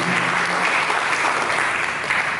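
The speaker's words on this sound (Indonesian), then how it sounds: "Mari kita berikan tepuk tangan untuk mengambil firman Tuhan." A church congregation claps together during a sermon, producing a dense, steady burst of applause that fills the room from start to finish.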